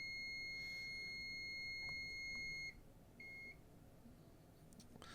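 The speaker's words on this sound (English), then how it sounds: "quickly I better get on my material so that horn stops buzzing" A Nortec 600 eddy current flaw detector alarm horn sounds a continuous electronic buzzing tone for several seconds, cuts off, then gives one short burst, over a low background hum.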